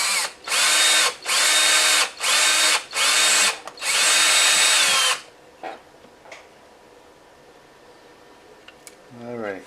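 A small power drill bores holes in a plastic Burger King Game Boy Color toy shell in five short whirring bursts and one longer one, followed by faint clicks and handling noises.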